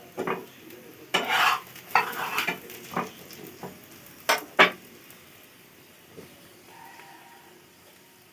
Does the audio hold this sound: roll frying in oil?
yes